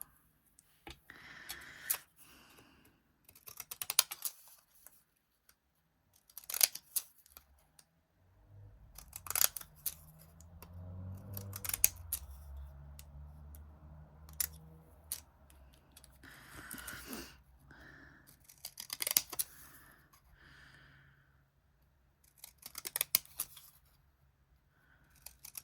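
Scissors snip through paper in intermittent bursts of sharp cuts and rustles, close and fairly quiet, with a low rumble partway through.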